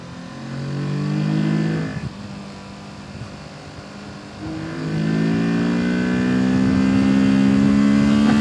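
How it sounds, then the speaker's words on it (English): A Porsche Turbo cabriolet driving on the road near the Nürburgring, its engine note rising and falling as it accelerates, loud and sustained, with a strong harmonic drone swelling in the second half. "That's a Porsche Turbo, by the way,"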